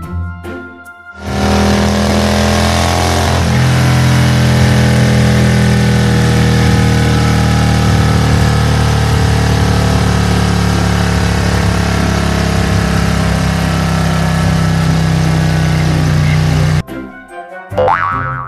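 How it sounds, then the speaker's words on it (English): A motorcycle engine runs with a loud, steady mid-pitched hum and drone for about fifteen seconds, close by, then cuts off abruptly. "M for motorcycle."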